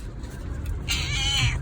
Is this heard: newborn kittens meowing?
yes